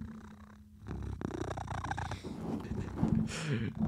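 A close, low rumbling cat purr runs steadily through the clip, with faint rustling and handling noises around it.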